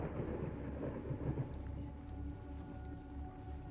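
Thunderstorm in the video game Into the Radius, a low rolling rumble of thunder over a steady hiss of rain, moderately quiet and sustained throughout.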